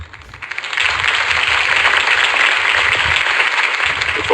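A crowd breaks into loud, sustained applause that swells after a quiet start and keeps going steadily, dense and even.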